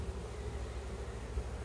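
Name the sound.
package of honey bees buzzing during hive installation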